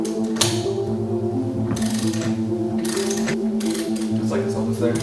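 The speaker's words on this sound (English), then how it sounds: "Now let's continue wrenching." A ratchet wrench works on the center-lock wheel nut of a lifted Porsche 959, in repeated bursts of rapid mechanical clicking over a steady, humming tonal background.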